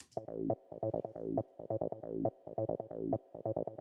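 A synthesizer bass line recreating a song plays in a repeating pattern of short, punchy notes with a steady rhythm, fairly thin and light in low end.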